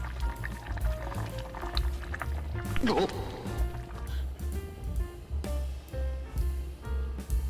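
Korean soft tofu stew (sundubu-jjigae) bubbles, churns and boils over in a pot, with gurgling bursts and clinks over a persistent low rumble; people talk intermittently nearby.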